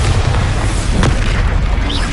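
Bombarda explosion spell going off in the Hogwarts Legacy video game, a loud, dense booming blast with heavy low rumble sustained across the whole moment, with a brief sharper crack partway through.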